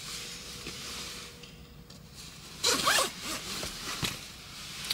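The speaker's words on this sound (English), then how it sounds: "let me zip up my jacket." A jacket being zipped up outdoors, a short, loud rasping zip stroke of about a second, preceded by quieter rustling and ambient background.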